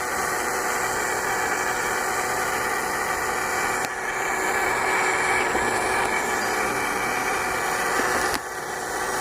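A hand-made electric motor driven by an Arduino through an H-bridge chip runs with a steady whirring buzz and high tonal whine, briefly dipping twice as it is adjusted, no voices.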